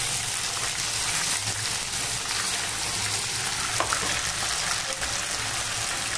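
Chole masala, a ground spice paste, fries in oil in a pan, giving a steady, close hiss of sizzling that runs unbroken with a few faint stirring clicks and no talk.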